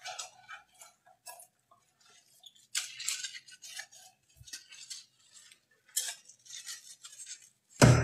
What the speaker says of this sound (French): je fais la vaisselle de hier soir